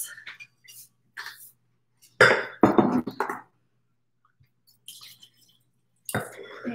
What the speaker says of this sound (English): go ahead and pour that in your glass